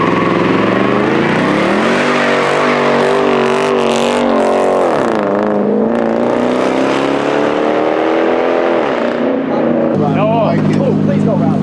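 A big single-turbo Nissan 350Z street car accelerates hard, its loud engine note climbing and dipping through rising revs, close by, with people shouting and cheering over it.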